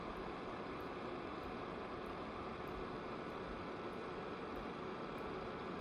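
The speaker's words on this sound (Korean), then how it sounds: "아무래도 팬 소리가 좀 나죠?" The cooling fan of a VoxFlix VF71 single-LCD projector, heard about 10 cm from its exhaust vent, gives a steady, even airy hum with no change in level and no other sounds.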